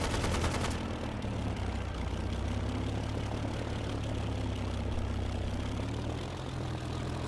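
Japanese fighter planes, Zeros, drone overhead in a Pacific battle in Easy Red 2, a dense continuous propeller-engine rumble with a burst of rapid gunfire at the start and scattered shots beneath.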